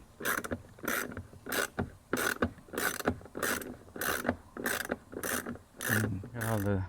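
A ratchet wrench with a T25 Torx bit loosens window regulator bolts inside the rear driver-side door of a 2013 Volkswagen GTI, producing about ten close, evenly spaced clicking bursts, the last one turning into a faster buzzing ratchet run.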